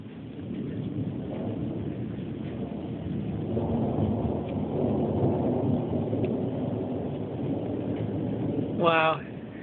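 Rumbling thunder from a Central Texas thunderstorm rolls low and continuous over steady rain and wind noise, ending with a short crackling burst near the end.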